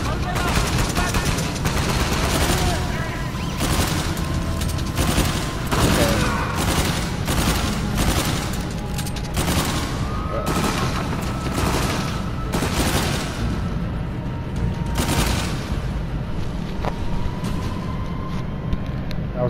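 Repeated bursts of video game gunfire from Uncharted 4 crack through a dense, busy soundscape of continuous action and rumble, with shots recurring every second or so and voices underneath.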